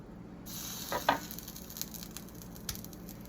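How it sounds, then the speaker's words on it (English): Raw chicken pieces going into a pot of tomatoes, olives and water for a chicken and rice dinner, making a brief soft wet clatter over a faint steady sizzle in a quiet kitchen. "Now I'm just gonna put the chicken in there."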